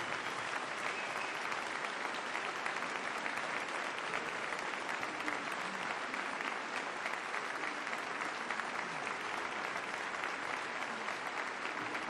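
Sustained crowd applause for a band at a live concert, a thick, even roar of clapping that holds at constant level for the whole stretch without pauses.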